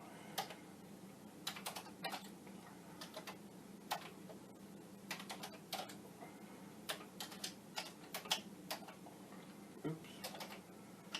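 Keys clacking on a Commodore 64 keyboard during a repair and test session, with irregular bursts of keystrokes over a steady background hum and no talk.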